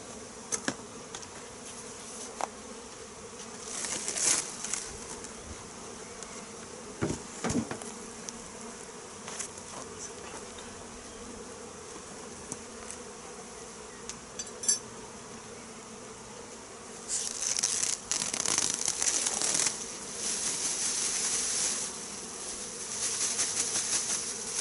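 Honeybees buzz steadily inside a hive box opened for a spring inspection while a colony is being moved from a nucleus hive, with occasional louder passes of bees flying close and a denser burst of buzzing later on.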